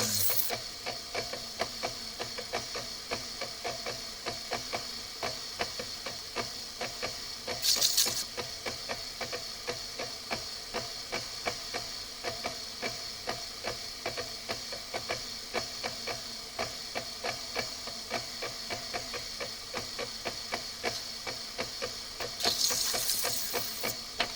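Opal pressed against a spinning grinding wheel, a continuous hissing, rasping grind with steady texture and two brief louder bursts of spray or contact noise, no voices.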